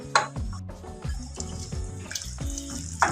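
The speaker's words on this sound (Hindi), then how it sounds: "तो इसमें हम पानी शामिल करेंगे थोड़ा थोड़ा करके" Water is poured little by little into jalebi batter in a home kitchen while it is mixed with a hand beater, giving a run of splashing, gurgling pours with a rhythmic, uneven pattern.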